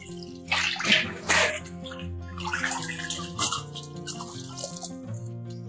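Lean raw pork with sinew is rinsed and rubbed by hand in a basin of water, with sloshing and splashing in bursts, some louder swishes early, and quieter dripping and handling between them.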